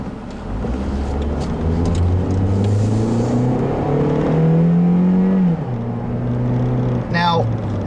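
A 2012 Toyota Corolla S with a four-speed automatic accelerating on a test drive, its engine droning and rising in pitch, then dropping at a shift and climbing again, loud and close from inside the car.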